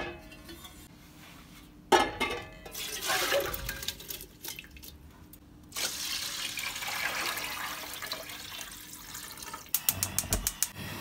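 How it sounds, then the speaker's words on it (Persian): Rice and water are poured into a cooking pot for sholeh zard, bursts of splashing and rattling grains with pauses between, ending with a quick series of sharp clinks, fairly close and without talk. "الان من این برنج رو بریزم داخل قابلمه."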